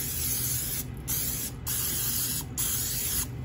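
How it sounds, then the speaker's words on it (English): Several long hissing bursts from an extra virgin olive oil aerosol cooking spray, each lasting about a second, separated by short pauses, close up. "I'm gonna spray them each with some extra virgin olive oil spray"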